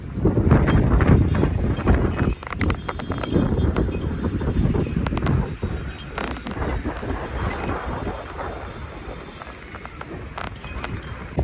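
Heavy wind buffets the microphone in loud, rumbling gusts throughout, with occasional sharper bursts and no clear voice.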